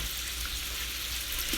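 Chicken pieces browning in a frying pan give a steady, close sizzle and hiss that runs unbroken throughout, with no voices.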